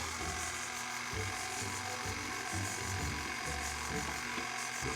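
An electric mixer runs on low while mixing mocha cake batter as buttermilk streams in, giving a constant whirring, gear-like mechanical drone at close range.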